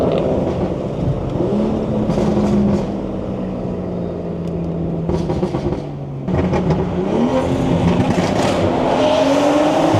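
A BMW 340i with its B58 engine accelerates from inside the cabin, a loud continuous drone rising in pitch through gears with brief dips at shifts and bursts of intake roar, no talk.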